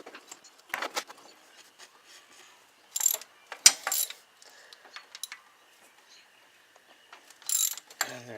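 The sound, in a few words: ratchet with 1/2 inch socket turning intake bolts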